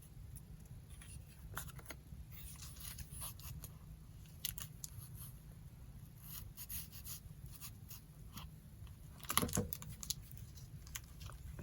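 Scissors snipping paper for a collage journal, a few soft, faint cuts spaced out over a low steady room hum, with one sharper cluster of snips near the end.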